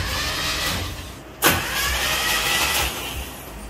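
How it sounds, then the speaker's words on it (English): An old Jeep engine, unstarted for decades, cranks over on its starter with a steady churning rumble and a sharp mechanical onset, continuing for several seconds at close range with no talk. "And check this out too, it actually cranks."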